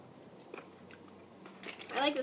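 Someone chews a sour cherry Mike and Ike candy close to the mic, making soft, faint, moist chewing and biting sounds, with a louder crunchy burst near the end.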